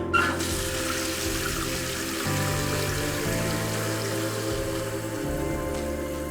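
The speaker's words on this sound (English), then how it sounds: "Turn that water back on." Water runs steadily into a toilet tank as it refills, a continuous hiss with gurgling that shifts in pitch as it fills, close by with no voices.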